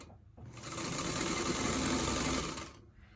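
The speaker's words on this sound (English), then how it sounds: "and you start your 1/4 inch seam." Sewing machine stitching a quarter-inch seam on a quilt, a steady whirring hum that rises after a short pause, holds for about two seconds and then stops, close and clear with no voices.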